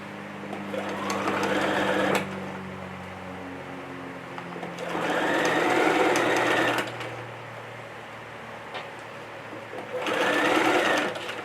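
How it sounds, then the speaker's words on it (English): A sewing machine runs in three bursts of rapid whirring stitching, each a few seconds long, separated by pauses with a low background hum. "Don't stitch over any pins."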